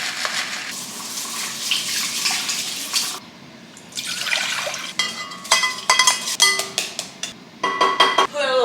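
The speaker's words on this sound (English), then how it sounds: "You gotta make sure though that we wash it first." Basmati rice is rinsed in water in a home kitchen: close splashing and swishing of water at first, then a quieter pause, then sharper clinks and trickling bursts as the grains are stirred and the water poured.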